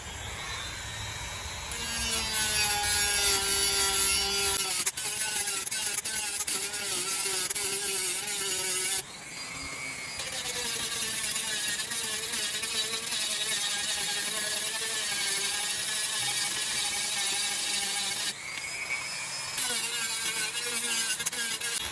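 A power tool shaves down part of a steering shaft during a steering shaft upgrade on a 1987 Monte Carlo SS, giving a quiet, whining buzz in three long runs separated by brief pauses.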